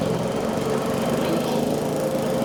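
A lawn mower engine runs steadily at full throttle in cold weather, a constant close buzzing drone with no break or change.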